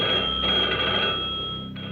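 A telephone bell rings loudly in a steady trill, with a short break near the end, and no voices.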